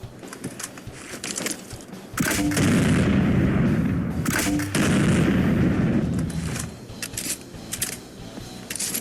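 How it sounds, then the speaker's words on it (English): A 25mm drum-fed grenade launcher modelled on the Grenade APW, firing in Fallout 4, with two heavy booming shots a couple of seconds apart, each followed by a long rumbling tail, loud and close. "This is a 25mm grenade launcher inspired by the Grenade APW from Fallout New Vegas"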